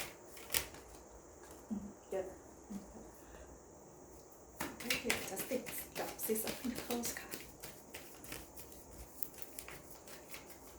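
Tarot cards are shuffled close by in soft, quick riffling bursts, with sparse taps early on and a denser flurry in the middle, faint and quiet under a low room tone while someone speaks.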